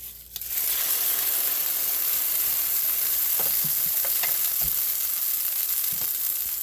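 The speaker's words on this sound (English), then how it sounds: "So I'm going to go ahead and put my onions in." Chopped onions hit a hot pan on high heat and burst into a loud, steady sizzle that holds close and continuous, with faint stirring clicks underneath.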